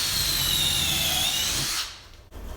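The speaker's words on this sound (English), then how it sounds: "Take a 1/4-inch drill bit and drill a pilot hole." A power drill with a 1/4-inch bit bores a pilot hole for a ceiling hook mount, giving a loud, close, high whine that holds steady for nearly two seconds before stopping abruptly, followed by faint handling noise.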